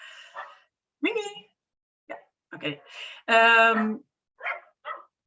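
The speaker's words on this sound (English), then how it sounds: "oh, sorry, that's my dog." A dog barks indoors in a few short, close bursts, with one longer, louder, more tonal cry, mixed with a person's brief speech.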